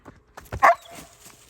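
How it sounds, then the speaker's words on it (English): A German Shepherd gives a single short, sharp bark amid faint outdoor rustling and footsteps on a holiday walk, the bark close and brief. "Dogs."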